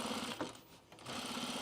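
An industrial sewing machine stitches fabric for a pajama top, a fast steady mechanical whir that dips briefly in the middle, then picks up again, fairly quiet and close.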